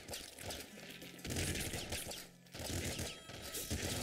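Rapid machine gun fire in the video game Nuclear Throne, dense bursts of crackling shots in quick succession with brief pauses between volleys, loud and continuous over game noise.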